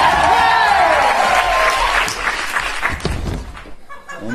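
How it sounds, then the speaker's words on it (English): An audience at an improv comedy show applauds and cheers loudly. Sustained clapping with crowd noise gradually tapers off as voices come through. "Round of applause"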